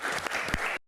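A brief burst of audience applause at a televised Q&A session, a dense wash of clapping that stops suddenly after under a second.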